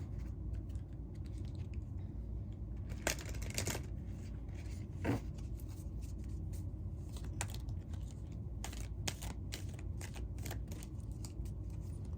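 Tarot cards are shuffled and drawn, a quiet run of crisp riffling and flicking bursts scattered over a low background hum, with the loudest shuffles clustered near the middle and end.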